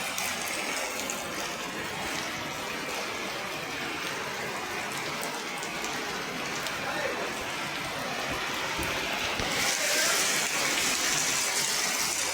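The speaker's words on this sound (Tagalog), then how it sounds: "saka pa naman umulan" Steady rain pours down, a continuous hiss of water on surfaces that stays loud throughout with faint voices underneath.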